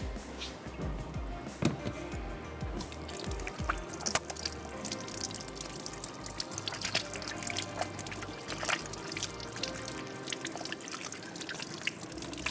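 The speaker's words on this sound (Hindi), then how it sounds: "हैंड्स को वॉश कर लेते हैं।" Tap water runs steadily into a kitchen sink while hands are washed after making chicken kofta, a continuous close splashing trickle with small drips and spatters throughout.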